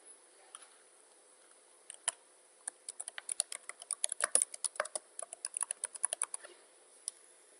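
Fingers typing on a computer keyboard, a quick run of crisp, close keystrokes that starts sparse and then speeds into dense bursts before trailing off, with no talk over it.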